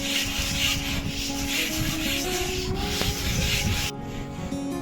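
Steady abrasive rubbing and smoothing across the surface of a Jaipur blue pottery piece, a continuous scratchy hand-sanding texture that holds at even loudness throughout, slightly lighter near the end, with no talking.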